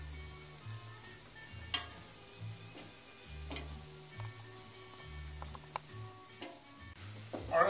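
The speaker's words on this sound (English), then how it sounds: "Our onions have been sweating now for a few minutes" Onions sweat in a pan on a home kitchen stove, giving a soft, steady sizzle with occasional light clicks and stirring scrapes over a low, pulsing background hum; no one speaks.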